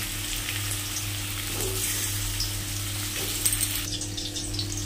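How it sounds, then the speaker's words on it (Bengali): Potatoes frying in oil in a pan produce a soft, even sizzle under a steady low kitchen hum, with a couple of faint utensil taps and no talking. "আলুটা ভেজে নিচ্ছি প্রথমে লাল লাল করে"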